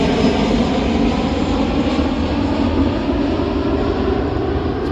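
An airplane flies low over a backyard near an airport, a loud, steady roaring drone that fills the whole stretch without letting up. No voices are heard.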